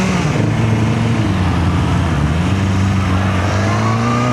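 A Kove 450R motorcycle engine drones loud and close, its pitch climbing steadily as the bike revs and pulls away, with no voices over it.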